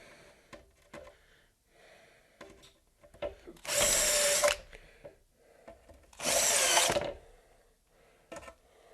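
Two loud bursts of a power drill whirring, each under a second long, separated by quieter knocks and handling clatter close by.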